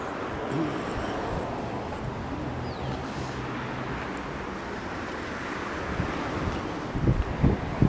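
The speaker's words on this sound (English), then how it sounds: "the wind's blowing on my back, so it's not too bad" Wind blows outdoors during a walk through Halifax, a steady rushing buffet against the microphone that gusts louder near the end, with faint outdoor background beneath.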